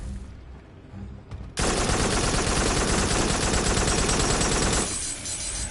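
Continuous sustained fire from a newly picked-up gun in the VR shooter game Farpoint, a loud dense roar that starts abruptly after a quieter lead-in and eases slightly near the end.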